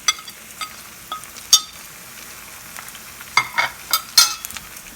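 Tomatoes sautéing in a pan with crushed ginger and garlic for Ankamaly-style dum biryani: a soft steady sizzle with scattered sharper crackles and spatula scrapes, fairly close, no talk.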